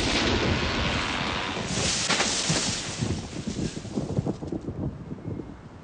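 Thunderstorm roaring with heavy wind and rain, a broad rumbling wash that swells and then breaks into gusty, uneven bursts, fairly close and without speech.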